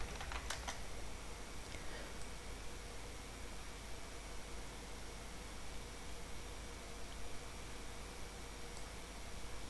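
Soft, steady typing on a Windows 10 computer keyboard, faint and continuous over a hiss of background noise, with no voices.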